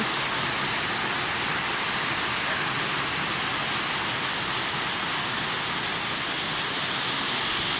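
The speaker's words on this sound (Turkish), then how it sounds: "Yağmur yağıyor" Steady, heavy rain falling outdoors, a constant broad hiss with no breaks and no voices.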